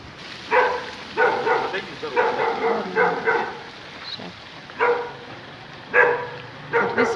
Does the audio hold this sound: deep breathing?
no